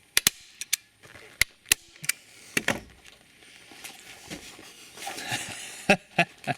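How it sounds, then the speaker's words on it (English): A staple gun fires staples into a motorcycle seat cover on a Yamaha PW50 mini bike, giving sharp, isolated snapping shots in irregular bursts with quieter handling noise in between. "put a staple right here"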